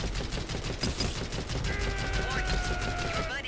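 Continuous game gunfire from Metal Gear Solid, a dense fusillade of rapid shots with mechanical clatter running throughout, loud and close, with radio-style voice chatter faintly mixed in.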